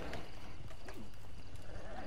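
Quick horse hoofbeats clop along with a short, faint neigh in the video game Red Dead Online, a brief horse sound set against a muffled background.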